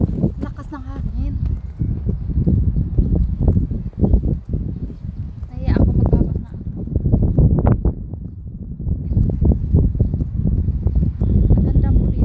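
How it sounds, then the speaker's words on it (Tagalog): Strong wind at Naksan Beach in Yangyang, Gangwon-do, South Korea, buffeting the microphone in loud, continuous gusts and rumbles, with a voice speaking briefly over the roar. "Lakas ng hangin."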